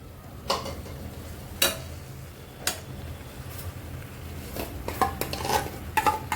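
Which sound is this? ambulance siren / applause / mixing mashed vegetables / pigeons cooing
mixing mashed vegetables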